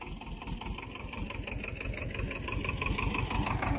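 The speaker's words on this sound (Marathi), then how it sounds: "आता आपण ट्रॅक्टर इथे रिवर्स घालायला सांगणार आहे" A tractor engine idles in a watermelon field during harvest while the tractor reverses, making a steady, close, low throbbing rumble that builds slightly in loudness, with no talk over it.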